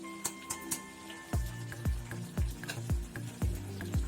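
Potato posto with green chili and sugar cooks in a pan over a soft sizzle, with repeated close stirring thumps and scrapes at a steady, roughly half-second rhythm.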